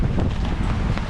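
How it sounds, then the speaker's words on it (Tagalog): Strong wind gusts buffet the microphone during rain on a city street, making a short, loud, low rumbling roar with no talk over it. "May lakas yung hangin."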